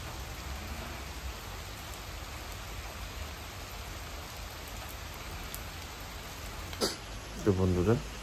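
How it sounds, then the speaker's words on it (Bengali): Steady heavy rain pours outside on a winter morning in Delhi, a dense, even wash of noise running throughout, with a brief clatter and a short low murmur near the end. "খুব ধীরে ধীরে ভালোই জোরে বৃষ্টি হচ্ছে।"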